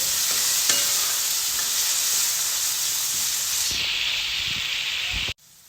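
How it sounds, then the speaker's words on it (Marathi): Onion and tomato sauté in a pan for rajma, a dense, steady, hissing sizzle that carries on unbroken before cutting off abruptly near the end. "टमाटर आणि कांदा व्यवस्थित परतून घ्यायचा आहे"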